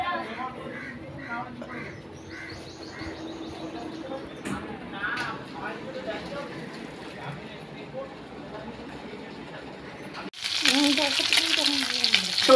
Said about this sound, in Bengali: তো আমুদি মাছ ভাজছি